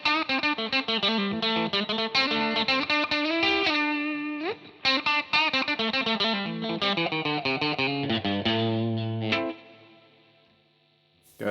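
A distorted electric guitar plays a busy run of chords and notes with reverb, then lets a final chord ring out and fade.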